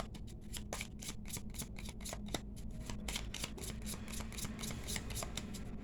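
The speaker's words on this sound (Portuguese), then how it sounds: "Então embaralhei as cartas para a gente começar, fazendo aqui um corte no monte." Cigano and tarot cards shuffled on a table in a steady run of crisp, rapid riffling flicks, close and continuous, with no talking.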